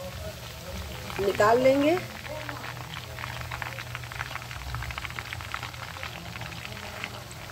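Chicken frying in hot oil, a steady crackling sizzle that runs the whole time, with someone speaking briefly over it near the start.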